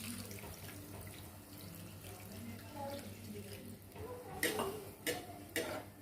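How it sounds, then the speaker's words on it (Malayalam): Water is poured into a brinjal curry gravy with a soft, steady trickle, followed by a few sharper splashes close by near the end. "നമുക്കിതിലേക്ക് ആവശ്യത്തിനുള്ള വെള്ളം ഒഴിച്ചു കൊടുക്കാം."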